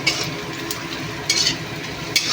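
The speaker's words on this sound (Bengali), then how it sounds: "দেখো আজকে এই পেঁয়াজ ভাজছি" Onions fry in a pan with a steady close sizzle, broken by a few sharp scraping strokes of a stirring utensil.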